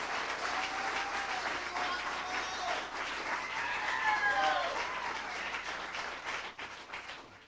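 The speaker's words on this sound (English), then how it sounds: "All right, if I get a big round of applause here for another Thai guy." Sustained applause from an audience at a 1995 CD release party in a college auditorium, steady dense clapping filling the room for several seconds, with a few faint voices and whoops mixed in.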